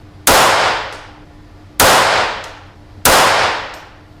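Three sharp .22LR rifle shots fired with Eley Tenex match ammunition, each a crisp crack followed by a decaying echo, spaced about one and a half seconds apart, close and loud with no talking.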